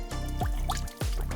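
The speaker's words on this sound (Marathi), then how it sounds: "तळ्याच्या कुशीकूच आसा थंड उदकाचो झरो." A cold-water spring flows beside a pond, giving close, liquid dripping and gurgling with a few distinct splashy drops over a steady trickle.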